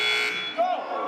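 A basketball game buzzer at a Somerville High School boys' game against Everett sounds steadily under crowd noise and a commentator's voice, followed by a brief rising tone near the end.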